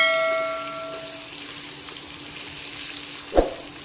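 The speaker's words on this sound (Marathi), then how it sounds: "आता याला आपण छानपैकी फ्राय होऊ देऊया" A mixture of amla and raw mango chutney fries softly in a pan, a faint steady sizzle with a single sharp clink of a utensil near the end.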